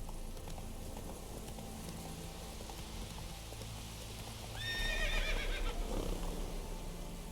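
Geralt's horse Roach in The Witcher 3 gives a clear whinny midway, rising out of a steady ambient bed with hoof clip-clops and rain-like patter throughout.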